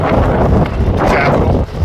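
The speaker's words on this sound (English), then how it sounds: "it's getting really windy" Strong wind at the Washington Monument buffets the microphone in a steady, loud roar with gusty surges throughout, briefly dipping near the end.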